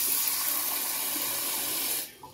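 Running tap water pours steadily into a sink while washing arrowroot for about two seconds, then shuts off, leaving a few faint clinks.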